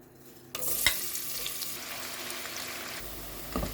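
Onion dropped into a hot pan bursts into a sudden loud sizzle that settles into steady frying, with a sharp clink early on and another stirring knock near the end.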